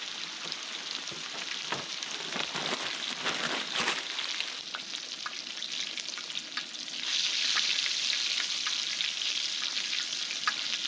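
Steak sears on a very hot Skottle grill with olive oil and butter, making a loud, close, crackling sizzle that runs throughout and swells in intensity partway through, with no voices.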